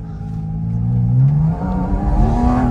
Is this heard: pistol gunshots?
no